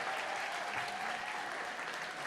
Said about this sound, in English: Round of applause in advance.